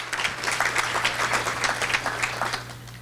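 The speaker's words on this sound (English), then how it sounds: "let's give them a round of applause for jumping on board with that" Audience at a Pasco Chamber of Commerce meeting applauds the event's premier sponsor, a steady round of clapping from a modest crowd filling the room for a few seconds over a low hum.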